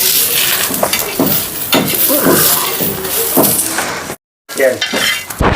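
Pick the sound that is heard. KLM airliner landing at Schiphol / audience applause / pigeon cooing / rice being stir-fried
rice being stir-fried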